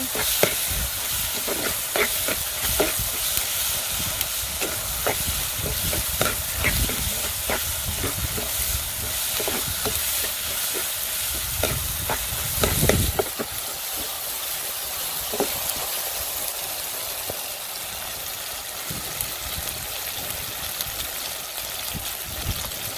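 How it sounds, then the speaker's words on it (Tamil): Tomatoes sautéing in a pan for a Jaffna-style ground-spice mutton curry, a continuous close sizzle and hiss with occasional stirring scrapes, no talking. "தக்காளி பழம் வதங்கிட்டான்னு பார்ப்போம்"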